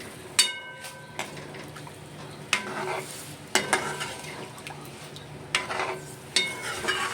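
Pomfret curry bubbles in a pot with a soft, continuous simmering hiss, broken by several sharp clinks of a spoon against the pot's metal rim.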